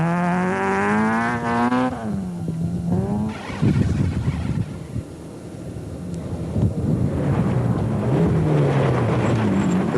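A Team Total Toyota Corolla rally car on a mountain trail stage in 2001: engine revving high and rising through gears, then gravelly tyre and chassis noise as it passes, with the engine pulling again nearby.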